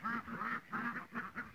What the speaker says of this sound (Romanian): Ia uitați și rațele leșești.